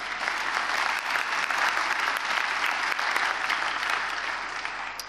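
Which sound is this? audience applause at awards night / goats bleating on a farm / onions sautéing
audience applause at awards night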